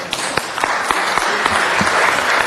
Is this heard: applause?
yes